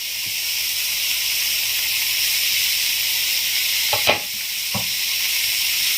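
Carrots, onions and potatoes sizzle steadily in a hot pan, a constant bright frying hiss with a couple of small clicks and pops from stirring, no voices over it.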